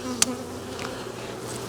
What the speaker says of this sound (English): there's a few bees here stuck in the honey.